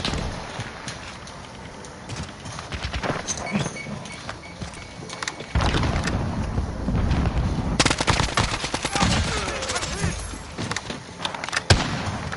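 Rapid machine gun bursts and scattered gunshots crackle through a PS4 military shooter battle, dense and loud with some louder stretches of firing over a busy background of game effects.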